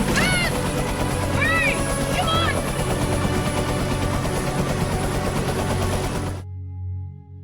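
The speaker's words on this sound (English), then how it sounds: "a helicopter with other people comes to rescue him" A steady low rotor thrum with mechanical clatter fills the scene, overlaid by whistling tones and other busy sounds, before cutting out near the end.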